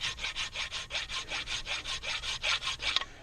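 A hand file scraping rust off Chevy Impala front brake parts makes about a dozen rhythmic, close, raspy back-and-forth strokes at a steady pace.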